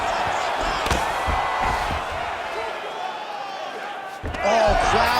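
Arena crowd noise in EA Sports UFC 5 as fighters return to their feet after a long grappling exchange, a steady roar of cheering that dips briefly and swells louder near the end, running under commentary.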